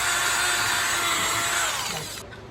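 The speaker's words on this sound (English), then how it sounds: "Then I removed the legs and drilled a hole to accommodate the screw bolts I was using." A power drill bores a hole into a wooden block for screw bolts on a mid-century dining table build, a loud, close, steady whine that holds for about two seconds and then cuts off.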